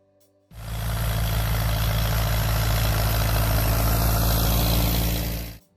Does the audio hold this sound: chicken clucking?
no